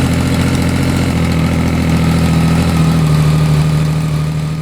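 A Yamaha Tracer 900 GT fitted with a hybrid Lextek and SP Engineering exhaust, its engine running loud and close with a rough, throaty idle, a slight ticking knock and the pitch rising slightly partway through.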